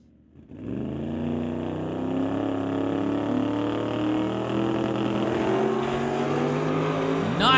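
Drag racing cars launch and run down an eighth-mile track at a West Coast Outlaw Shootout event, a sudden loud engine roar that starts after a brief quiet and holds steady, rising slightly in pitch, close and dominant throughout.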